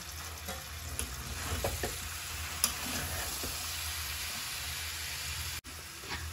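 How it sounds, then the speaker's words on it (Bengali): Chalta, or elephant apple, frying in oil in a pan for a homemade sweet-sour-spicy pickle, a steady close sizzle and hiss with a few soft stirring knocks and one sharp clack, without voices. "চালতাটাকে অনেকটুকু আমি ভেজে নিয়েছি তেলে"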